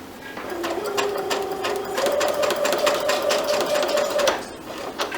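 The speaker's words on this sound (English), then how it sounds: "And so we're sewing down." A sewing machine stitching quilt block seams runs in a steady fast whirring chatter, close and continuous, stopping briefly near the end.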